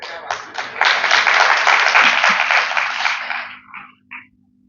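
An audience at a talk breaks into a burst of applause, dense close clapping that swells quickly, holds for about three seconds, then thins out into a few scattered claps.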